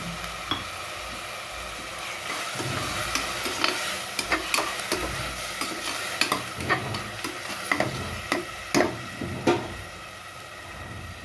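Ginger-garlic paste, yogurt and mint sautéing for chicken biryani, a continuous close sizzle broken by frequent scraping, clacking stirring strokes of a spoon against the pan, no voices.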